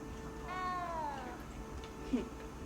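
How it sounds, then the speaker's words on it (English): Cat in the Hogwarts Legacy video game giving one drawn-out, descending meow at moderate volume over a soft background hum, followed by a short faint chirp near the end. "You don't need to be frightened, little cat."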